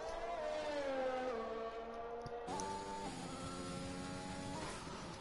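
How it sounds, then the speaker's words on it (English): An F1 car engine in an F1 racing video game, red and silver livery, screams steadily at high revs with shifting pitch, one clear gear change partway through, loud and close with no talking. "listen to that engine roaring over the track"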